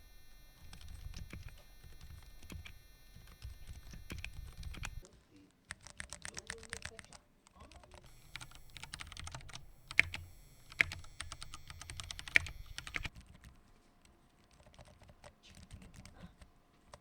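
Ducky One 3 mechanical keyboards with different switches are typed on in turn, giving steady bursts of clicky keystrokes. Short pauses separate each switch type, and a few louder key strikes stand out. No one speaks.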